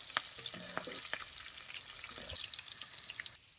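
Green chillies frying in hot oil for batata and matki vada, a steady broad crackle and sizzle close by with a few sharp spits and pops, fading out near the end.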